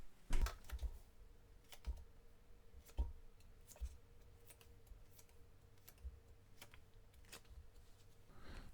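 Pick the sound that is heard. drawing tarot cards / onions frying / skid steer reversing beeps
drawing tarot cards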